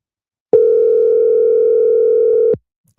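A single steady telephone tone sounds for about two seconds, loud and close, starting and stopping abruptly with silence on either side.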